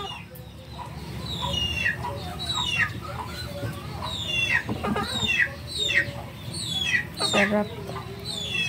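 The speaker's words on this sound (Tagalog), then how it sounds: "Ay, may manok dyan po sa gilid ko." Native chicken in a rural yard clucking close by in a run of short, repeated calls, over a low background murmur, with a brief spoken word partway through.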